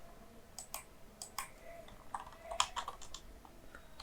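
A computer keyboard being typed on at close range, with short bursts of light key clicks separated by brief pauses, fairly quiet and with no talking.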